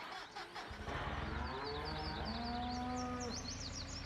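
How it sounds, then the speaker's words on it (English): Cattle in the video game Farming Simulator 19 moo in long, drawn-out lowing calls, several overlapping, with a faint mechanical hum underneath. "Shut up, cows! I'm getting food for you."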